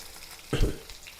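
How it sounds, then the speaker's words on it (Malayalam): Pilopi fish frying in oil in a pan produces a soft background sizzle with one brief, louder burst of crackling in the middle. "അങ്ങനെ നമ്മുടെ പിലോപ്പിയൊക്കെ വറുത്ത് റെഡിയായിട്ടോ"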